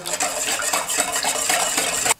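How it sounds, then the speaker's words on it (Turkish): A utensil stirs egg yolks and other ingredients in a pot, fast rhythmic scraping and clinking against the metal for about two seconds, close and loud, then stopping abruptly. "Tüm malzemeleri ekledikten sonra tamamen pürüzsüz bir şekilde tencerenin içinde karıştırmamız gerekiyor"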